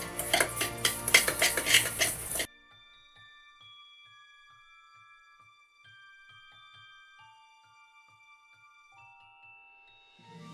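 Ground spices being stirred into brown sugar in a bowl while making non-cinnamon rolls: about two seconds of close, busy scraping and clinking, followed by near silence with faint tonal hum.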